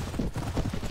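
Gunfire in the Mount & Blade game with the A New Dawn mod, an open-field battle: a dense, continuous volley of overlapping shots with a low, rumbling body, steady and fairly loud throughout.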